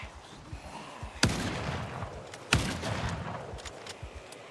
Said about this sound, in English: I don't want to have loud gunshot noises from anywhere but in here.